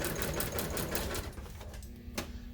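A sewing machine stitches a vinyl seat cover for a 1966 GMC seat bottom, its needle clattering in a steady rapid rhythm that strains and slows near the end, close and loud.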